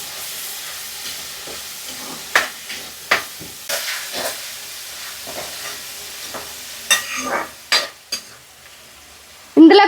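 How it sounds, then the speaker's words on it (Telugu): Curry leaves hit hot oil in a frying pan for a crab curry, giving a steady sizzle and hiss broken by sharp scrapes and clinks of stirring, louder at the end. "ఇందులో కొద్దిగా కరివేపాకు వేస్తున్నా."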